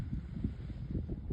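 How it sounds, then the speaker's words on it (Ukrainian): Low, rumbling wind buffets the microphone in uneven gusts, steady and fairly quiet with no voices. "О, пішов вітер."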